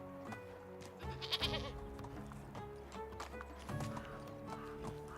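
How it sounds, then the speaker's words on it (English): Goats bleat in Medieval Dynasty, a few short, wavering calls that come and go over a steady ambient drone, with hoof clops and animal shuffling nearby. "that was a goat."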